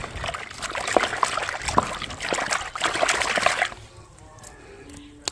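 Water pours and splashes into a pot being washed, with trickling and spattering that fade out partway through, leaving quieter drips and a faint clink at the end.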